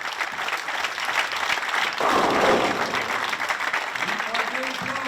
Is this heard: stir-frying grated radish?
no